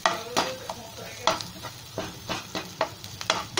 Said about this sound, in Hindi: हाई फ्लेम पर नहीं भूनना है प्याज को मीडियम फ्लेम और लो मीडियम फ्लेम पर आप इसको भूनेंगे